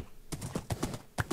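A metal horse gallops in Minecraft, sharp rhythmic hoofbeats coming in quick, evenly spaced pairs, close and fairly loud.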